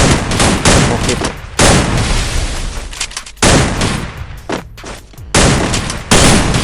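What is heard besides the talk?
grenade explosions and gunfire in video game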